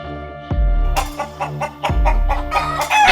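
A chicken clucks and squawks loudly and close by, in a rapid series of sharp calls.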